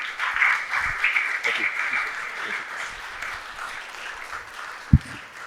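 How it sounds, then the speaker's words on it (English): Sustained applause from a conference audience fills the room for several seconds, dense and even with faint voices mixed in, ending with a single sharp knock near the close. "Ladies and gentlemen, please a huge round of applause."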